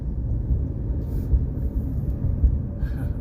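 Steady low street-traffic rumble at a busy roadside, continuous and moderately loud with no distinct passing vehicle standing out.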